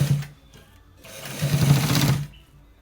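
Sewing machine stitching the top part of a neck design, two short bursts of fast, close whirring with a brief pause between them, no voices.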